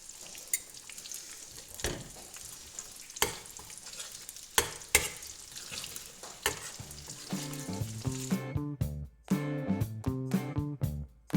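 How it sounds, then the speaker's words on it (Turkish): Tomato paste and red pepper flakes sauté in oil with a continuous crackling sizzle, punctuated by sharp spoon scrapes and taps against the pan, close and moderately quiet. "2 yemek kaşığı kadar salça, 1 dolu tatlı kaşığı kadar da kırmızı toz biberi güzelce yağda kavurup suyla açarak bir sos elde"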